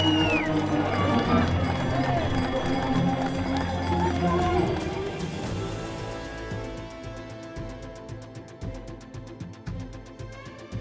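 A large crowd roars and cheers with loud music at the mass start of the UTMB ultramarathon. The noise is dense and continuous and slowly thins into a busier patter of runners moving off.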